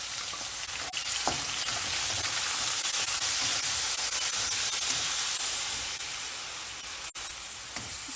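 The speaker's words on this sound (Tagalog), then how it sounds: "Igigisa lang natin ngayon yung ating gulay. Uunahin muna natin yung ating puso ng saging." Chopped banana heart and vegetables sauté in hot oil in a pan for kare-kare, a continuous loud sizzle with a few sharp crackles and stirring scrapes, no voices.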